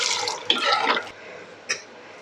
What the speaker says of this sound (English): Okay, so here we are draining the Job's tears.